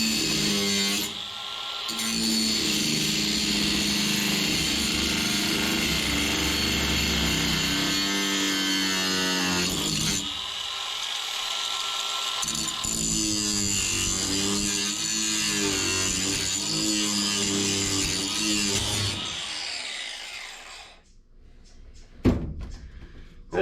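Angle grinder cutting off a rusted bolt head on a 1957 Autocar truck, a loud sustained whine held for about twenty seconds with brief dips in pitch, then stopping into quiet and a single clank.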